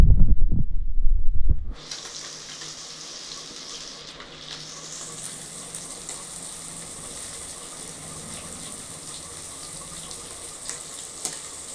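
Fish masala (meen varuval) frying in a little oil: a loud thump and clatter at the start, then a steady soft sizzling hiss that carries on alone.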